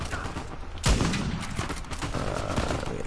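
A sniper rifle shot in the video game Uncharted 4, one sharp loud crack followed by lingering battle noise and scattered softer gunfire in the background.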